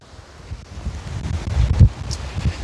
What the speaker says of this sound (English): Going against the wind, ain't too good on an e-bike.